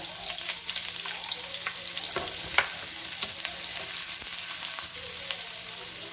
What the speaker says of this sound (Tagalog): Lagay na natin yung ating sibuyas. Ayan. Sabay na natin si bawang.